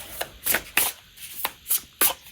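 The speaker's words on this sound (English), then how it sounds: "for those of you that like to shuffle sideways" Sideways shuffling of a tarot deck: six distinct, sharp card slaps at an uneven rhythm, close and fairly quiet, with faint hiss between them.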